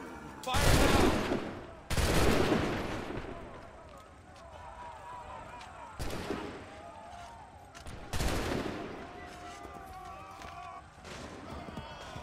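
Enemy gunfire in Assassin's Creed 3: loud bursts of musket volleys crack out in several separate waves, each with a long rumbling tail, over battlefield noise.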